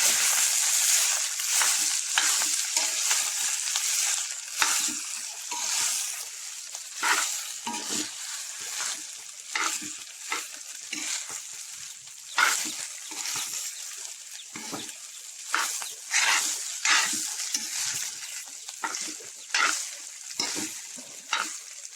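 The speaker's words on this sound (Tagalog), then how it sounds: "so mainit na ating mantika. So, okay lang natin siya hanggang mag-light brown. Kaya lagyan natin yung ating kanin" Cooked rice stir-fried in hot oil for yellow fried rice, steady sizzling broken by repeated scraping and tossing strokes of a spatula in the pan, close and continuous.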